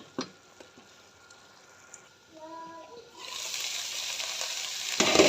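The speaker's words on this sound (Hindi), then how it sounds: "इसको अच्छी तरह हम मिक्स करेंगे और थोड़ी देर इसको पकने देंगे" Chicken fries in a pan with capsicum and corn: after a few light clicks and brief tones, a steady, fairly close sizzle rises and continues to the end with no talking.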